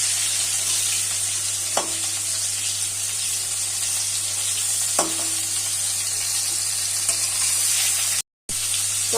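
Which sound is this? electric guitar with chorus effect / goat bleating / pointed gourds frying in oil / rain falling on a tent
pointed gourds frying in oil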